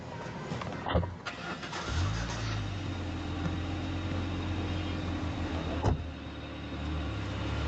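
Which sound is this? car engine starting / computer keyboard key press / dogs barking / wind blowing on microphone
car engine starting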